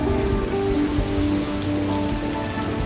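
Steady rain pours down in Nantes on a Tour de France stage day, a dense, continuous hiss of drops striking surfaces, loud and unbroken.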